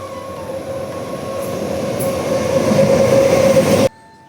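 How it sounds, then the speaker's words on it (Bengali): A train pulls into a railway station with a steady, close rolling rumble that grows louder, a thin wheel squeal riding on top, before the sound cuts off abruptly. "এখান থেকে একটা ট্রেন ঢুকছে"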